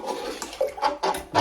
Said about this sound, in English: I'm just going to scoop that out, just like this, into my bucket.